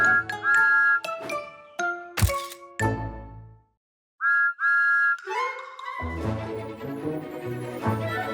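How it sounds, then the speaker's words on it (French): Thomas the Tank Engine, an animated locomotive, sounds two short bright whistle toots among chimes and cartoon sound effects, followed by a brief pause and swelling background music. "Et Thomas les salue à son tour avec 2 petits"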